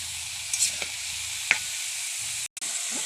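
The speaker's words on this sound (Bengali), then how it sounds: "ভালো করে নেড়ে চেড়ে কষিয়ে নেব।" Cabbage cooked with a fish head sizzles steadily in a pan while being stirred, with a few soft scraping clicks over the hiss and a brief cut-out of sound near the end.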